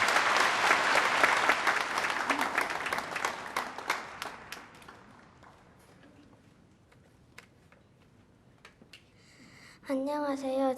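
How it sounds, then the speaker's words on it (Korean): Church congregation applauding as children come on stage at a Sunday service, with dense clapping that thins to scattered claps, then a voice begins speaking. "어린이 우리 등장할 때 박수로 한번 환영해 주시기 바랍니다."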